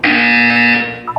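A buzzer in the video game Portal 2 sounds once, a loud, steady, harsh electronic tone lasting about a second before cutting off.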